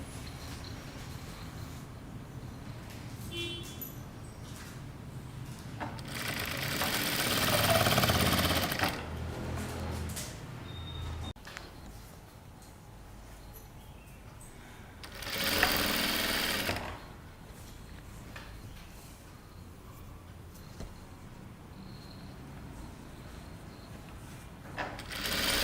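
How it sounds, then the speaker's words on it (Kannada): A sewing machine stitching a princess cut kurta runs in two loud bursts of rapid mechanical whirring, separated by quieter handling noises and pauses, heard close up with no talking. "ಸ್ಟಿಚಿಂಗ್ನ ಸ್ಟಾರ್ಟ್ ಮಾಡ್ಬೋದು."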